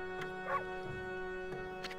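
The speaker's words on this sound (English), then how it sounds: "But I know that bark from anywhere." Short barks and yips from the wolf Amaterasu in the video game Okami, a few quick close calls over a steady tonal game music bed, with no talk.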